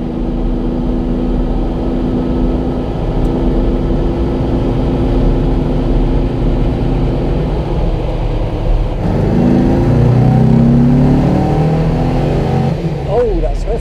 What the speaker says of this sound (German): Kann ihm richtig Gas geben, er geht richtig los hier.